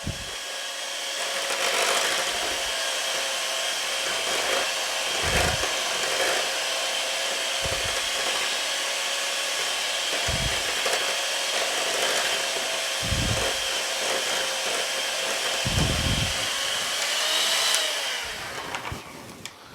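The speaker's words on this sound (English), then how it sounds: "Now you want to make sure you thoroughly mix this very well, okay, on high speed" Electric mixer whirring steadily on high speed while beating cream for a four-layer raspberry cream cake, a continuous loud motor hum with occasional low knocks of the beaters against the bowl.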